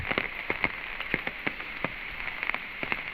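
Steady monsoon rain in rural Konkan falls with scattered drops tapping sharply on a surface, fairly quiet and continuous, with no voices.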